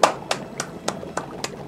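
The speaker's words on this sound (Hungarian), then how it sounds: "Ez taps, gyerekek, ez taps." Six sharp, evenly spaced claps ring out in quick succession, close and fairly loud, with no other sound between them.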